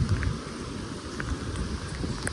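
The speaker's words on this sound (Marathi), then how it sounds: "पाऊस चालू झालाय बघा." Rain falls with a soft, steady hiss at Yamunotri, fairly faint, with a few light drips standing out.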